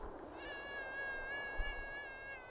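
A cat meows in the video game Thirty Flights of Loving, one drawn-out tonal cry that holds steady for about two seconds over a low background hum.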